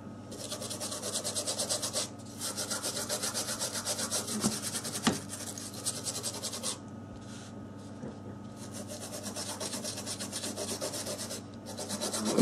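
Brush scrubbing corrosion off a wet Samsung Galaxy S4 i9505 circuit board during water damage repair, close rapid scratchy strokes in bursts with brief pauses between them.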